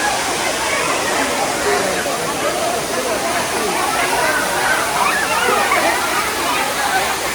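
Water rushes loudly and continuously at a bathing spot in Tirumala, a close, steady hissing flow like a small waterfall, with voices talking over it.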